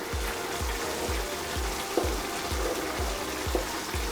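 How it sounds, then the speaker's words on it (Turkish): Rice for pilaf being stirred with butter in water in a pot, a regular rhythmic swish and scrape about twice per second over a soft bubbling wash, close and steady with no voices. "bir yemek kaşığı kadar daha tereyağı ekliyoruz. Ve karıştırıyoruz suyu içinde güzel."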